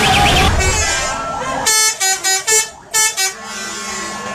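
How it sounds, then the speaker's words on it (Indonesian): A modified telolet horn on a bus plays a run of loud, musical toots in a choppy rhythmic burst of about six notes, preceded by voices and road noise. "Suara klakson telolet pada bis memang fenomenal dan memancing anak-anak untuk mengabadikannya."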